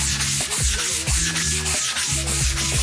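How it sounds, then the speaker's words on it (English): Sandpaper rubs straight back and forth over a flat surface while a shed is converted into a living room, making loud, rhythmic abrasive strokes about twice per second with no pauses for speech. "Put the sandpaper straight over,"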